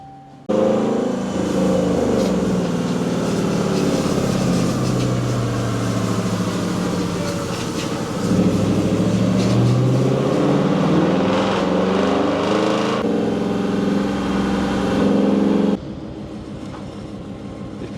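Supercharged Jeep SRT8 with a Whipple blower, held at a full-throttle pull: a loud, sustained engine roar that stays dense and steady for about fifteen seconds, with one brief lift in the middle, then drops off sharply near the end.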